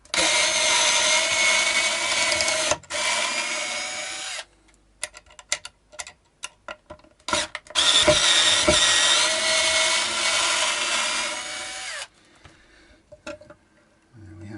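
A power driver removes the screws from the bridge of a Telecaster electric guitar: loud sustained whirring bursts broken by silent gaps and short clicking triggers, close and dry.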